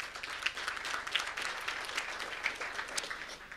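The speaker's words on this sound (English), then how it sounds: "let's give him a round of applause" Audience applause at a tech SEO conference greets a contestant, steady dense clapping from a crowd that holds at a moderate level for several seconds with no talk over it.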